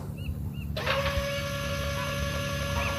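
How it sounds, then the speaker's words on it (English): A wrench turning a rusted part in the video game The Journey Down, a sudden mechanical clank followed by a sustained metallic ringing grind with ratcheting texture, near and fairly loud. "Good old wrench to the rescue."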